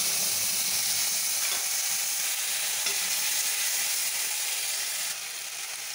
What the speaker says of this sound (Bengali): এবার এই তেলেতেই রসুন, আদা, কাঁচা লঙ্কা, একটা টমেটো নিয়েছি।